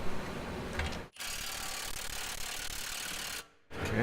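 A 1/2 inch impact gun driving a 3/8 socket through a reduction adapter and swivel rattles loudly on a front strut of a 2010 Mercedes C300 4Matic, in two long bursts separated by brief pauses.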